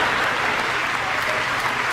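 Audience applause from a crowd at a late-night comedy show, steady dense clapping heard alone at moderate loudness with no pauses.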